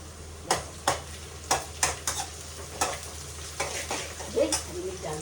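Sliced onion, browned, and long-cut green chillies fry in a pan, a steady sizzle broken by repeated scraping stir strokes at an uneven rhythm, close and moderately loud with no talking.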